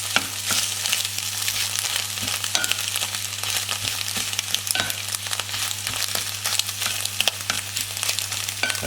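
Scrambled eggs frying in a pan while being stirred, a continuous close sizzle broken by frequent soft scraping strokes throughout.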